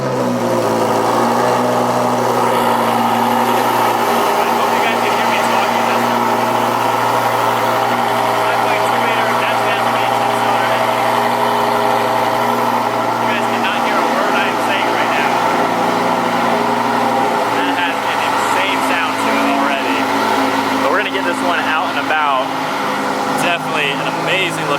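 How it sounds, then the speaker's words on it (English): A 2020 Lamborghini Huracan EVO V10 runs at a high cold-start idle, a loud, steady droning hum close by that holds the same pitch throughout, with a person talking over it at times. "it's time for a cold start"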